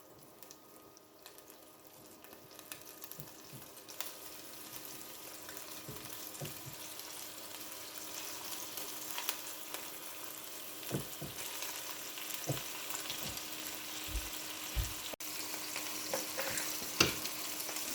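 Small meatballs being set one by one into hot olive oil in a pan, a quiet sizzle that gradually builds, with soft taps and placing sounds scattered throughout and no speech.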